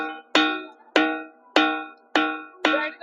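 A bell rung at the Kubrahudi Makar fair in Mayurbhanj strikes five times at a steady, even pace, each bright metallic clang ringing out briefly before the next, with no voices over it.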